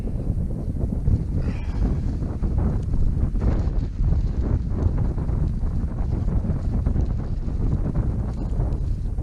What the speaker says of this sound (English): Wind's dropped a bit, still breezy though.